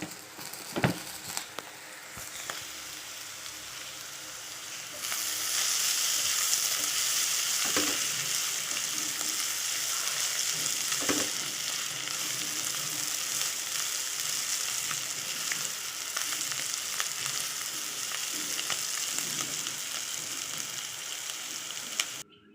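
Spices tempering in hot oil for mango dal crackle with a few sharp pops at first, then burst into a loud, sustained sizzle that holds steady to the end, close and without talk.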